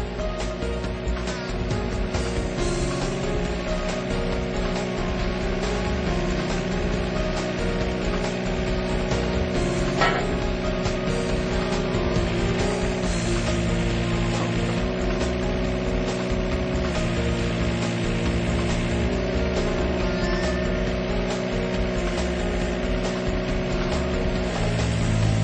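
A hydraulic guard rail post driver attachment runs steadily throughout, a loud continuous engine-and-hydraulic drone with dense tonal bands and no pauses or voices.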